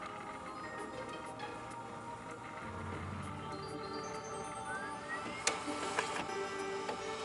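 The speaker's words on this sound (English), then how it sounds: "I hear the printer." An office printer running in a 1998 office, a steady mechanical whir with rapid ticking and a rising motor whine near the end, followed by a couple of sharp clunks, heard close and continuous.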